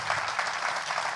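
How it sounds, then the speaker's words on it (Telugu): A church congregation claps hands together in a steady, dense wash of applause that sounds somewhat distant and muted, with no voices over it. "ఏది హుషారుగా ఒకసారి చప్పట్లు కొట్టండి"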